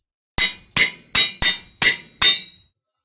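Six sharp metallic clanks from a Tool Forge crafting bolts in the Sky Factory 2 Minecraft modpack, evenly spaced strikes each with a bright ringing decay, close and alone.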